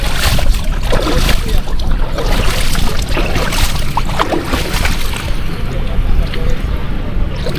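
High sea waves roll in at Camp Sitio Tangal on the Palauig, Zambales coast, a steady, loud rush of surf and wind that fills the whole stretch with faint voices mixed in.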